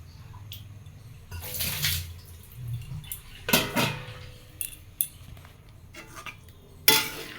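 Water is poured into a cooking pot holding stirred mango for a lightly spiced dish, coming in a few splashing gushes with clinks of metal cookware between them, close and fairly loud.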